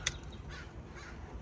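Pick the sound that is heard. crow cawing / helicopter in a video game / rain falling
crow cawing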